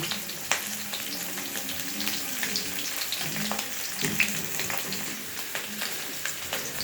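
Boiled potatoes frying in oil in a pan for alur dum, a steady soft sizzle with occasional crackles and faint stirring scrapes, close and even without talk.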